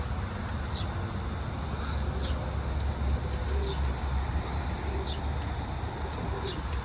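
Pigeons coo softly and repeatedly inside a crowded coop on a Punjabi farm, with the calls repeating at a fairly regular pace over a steady background hum.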